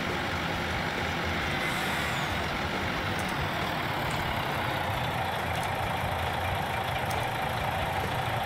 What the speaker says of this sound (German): LKW auskoppeln und den Traktor holen mit dem Dolly